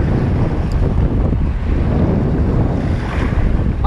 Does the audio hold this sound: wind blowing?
yes